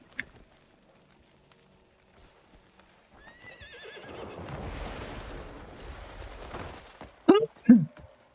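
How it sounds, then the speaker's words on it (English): A horse neighs and whinnies in the video game Crimson Desert, with hoof clip-clop and a swelling ambient wash leading into two loud, sharp whinny bursts near the end. "Why is the horse here?"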